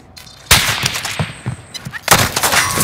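Rapid gunfire in Call of Duty: Modern Warfare multiplayer, loud bursts of shots cracking close by from about half a second in, with heavy reports continuing through the clip amid game effects.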